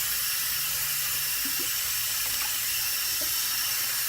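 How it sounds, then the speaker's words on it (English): Tap water running over sprouting barley fodder being rinsed, a steady close hiss of flowing water with a few faint knocks and splashes, no speech. "grab the barley from the second day and rinse that"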